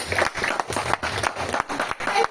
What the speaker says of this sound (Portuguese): Então, uma salva de palmas, que isso é Ozontec, viu?